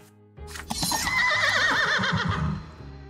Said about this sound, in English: filling your ears with clanging steel and the neighing of horses